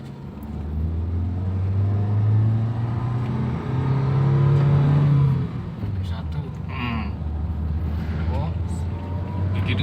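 A 2013 Toyota Rush engine pulls hard through the gears with a steady low rumble and rising tone, fairly loud and close, while a voice talks over it from inside the car.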